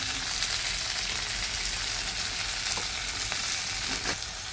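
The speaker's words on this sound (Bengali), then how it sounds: "পেঁয়াজটা আমার ভাজা ভাজা হয়ে গেছে। ওর মধ্যে টমেটো দিয়ে দেবো।" Onions and tomatoes fry in a pan with a steady, loud hiss that runs unbroken, with a few faint stirring scrapes near the end.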